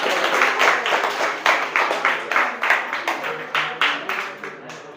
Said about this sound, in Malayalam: Yes yes, കൈയടിച്ചേ.